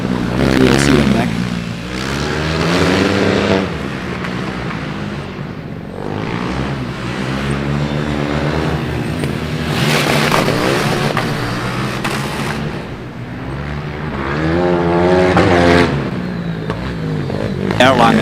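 At a Formula Student autocross, an Erlangen race car's engine revs aggressively through repeated acceleration surges, loud and close, while a commentator talks continuously over it.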